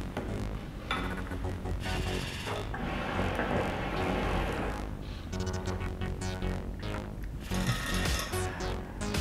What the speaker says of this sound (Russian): Вот, собственно, продувка, о которой я говорил.